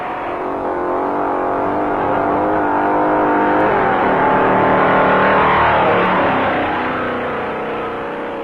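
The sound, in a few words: 1957 stock cars racing on Daytona beach, Pontiac and Chevrolet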